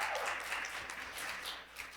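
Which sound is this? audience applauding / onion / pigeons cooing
audience applauding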